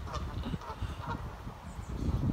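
Several geese honk loudly and repeatedly beside a canal, their calls overlapping in uneven bursts close by.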